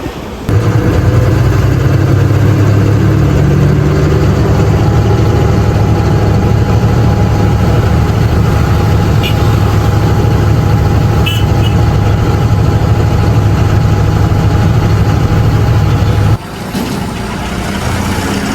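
A vehicle engine idles steadily in town, a loud, constant low rumble that runs without a break and then drops in level near the end.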